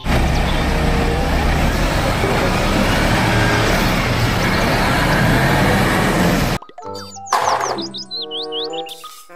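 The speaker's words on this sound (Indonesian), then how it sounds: "Mobil truk molen." Steady, loud rumble of a concrete mixer truck engine for several seconds, then it cuts off abruptly and a bright chirping melody with plucked tones takes over.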